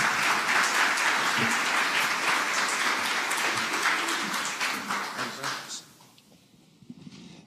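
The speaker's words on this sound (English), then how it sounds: "let's give Steve Spinner a round of applause" Audience applause for a presenter at a data analytics conference, a dense steady wash of many hands clapping that thins into scattered claps and fades out near the end.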